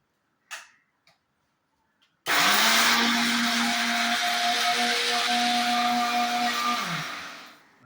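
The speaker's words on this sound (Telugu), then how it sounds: "మిక్సీ జార్లోకి తీసేసుకుని బఠానీలు, మిరపకాయలు, జీలకర్ర తిప్పేసుకుని" A mixer grinder blending peas, green chillies and cumin starts after a few light clicks. It runs as a loud, steady whirring roar for about five seconds, then winds down.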